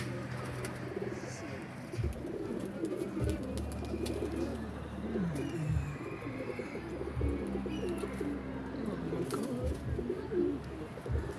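Pigeons and their young coo in soft, repeated low calls while flying overhead, with faint chirps and occasional wing flutters against an outdoor background.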